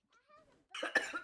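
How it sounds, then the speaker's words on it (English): A cat meows in the video game Minecraft, first as a faint, thin tonal mew, then as a louder, rough, breathy cry of about half a second with a sharp peak near the end. "It's a cat."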